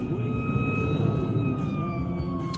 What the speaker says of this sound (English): There's an ambulance or fire truck right there.